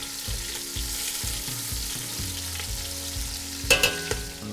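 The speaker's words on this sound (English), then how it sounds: "Carefully turn the ribs, making sure to saute all sides to develop flavor." Spare ribs sauté in a pan with toasting five-spice, a continuous frying sizzle under a low rhythmic thumping pulse, with a short burst of clinking metal near the end as the ribs are turned.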